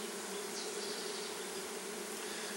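Honey bees from a new package hum as a dense, steady buzz, close and continuous, while frames are set back into a hive box.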